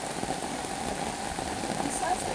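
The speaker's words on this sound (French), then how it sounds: "Le tarp à peine monté, c'est la pluie." Rain falls onto a freshly pitched tarp at a camp, a dense, even patter of drops close by.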